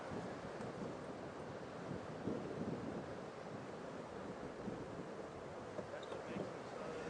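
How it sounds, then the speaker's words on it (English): Wind gusts outdoors during an evening safari drive in the African bush, a steady broadband rush of wind buffeting the microphone, faint overall, with a slight swell partway through. "That wind just gusted up there for a second"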